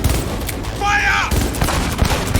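Gunfire during a Cyberpunk 2077 video game firefight comes as rapid, sharp bursts of shots mixed with a brief electronic whine and busy combat noise, loud and close throughout.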